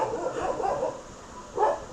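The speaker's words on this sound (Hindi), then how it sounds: "कुत्ते भौंक रहे हैं हमारी तरफ" Two short bursts of barking from dogs at a moderate distance, the first a cluster of several barks and the second a single sharper bark, over quiet room tone.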